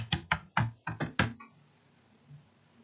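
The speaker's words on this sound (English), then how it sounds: "I will type fashion." Fingers typing on a computer keyboard: six crisp, close key taps in a quick irregular burst, then the keys fall silent, leaving faint room noise.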